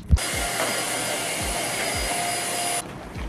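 Vacuum cleaner running while a messy room in Seoul is tidied, a steady close whining roar that starts abruptly after a bump and cuts off near the end.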